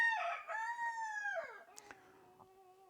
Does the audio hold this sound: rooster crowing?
yes